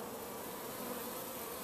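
A dense, steady drone of many honey bees buzzing close by in a hive, unbroken and fairly even in loudness for a brief moment.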